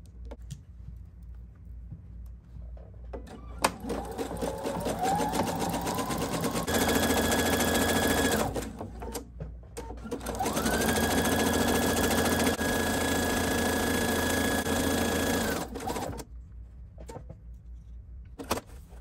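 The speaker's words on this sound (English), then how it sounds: "we finished zigzagging over the elastic thread" A sewing machine runs a zigzag stitch over elastic thread on a T-shirt dress, two long steady bursts of close whirring with a brief pause between, starting and stopping sharply, no talk.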